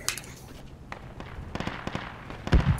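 Gunfire crackles through a military shooter video game during a squad fight over bunkers, with scattered distant pops and rapid shots that build to a louder close burst at the end, with no voices.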